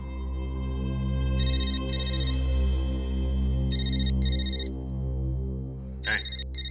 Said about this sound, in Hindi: फोन बज रहा है तेरा।